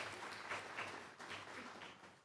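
Audience applause during a plenary session at an evaluation conference, a steady, faint wash of clapping that fills the whole moment without a break.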